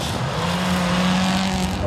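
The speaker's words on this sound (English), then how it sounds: "Pushing the Hyundai i20 AP4 through the opening stages" Hyundai i20 AP4 rally car at speed on a gravel stage, a steady loud engine roar with tyre and gravel noise, while a commentator talks over it.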